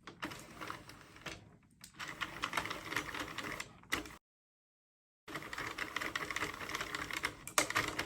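An Addi or Sentro circular knitting machine being cranked through a row, giving a steady rapid clatter of plastic needles and carriage, with one brief pause midway before the clicking resumes.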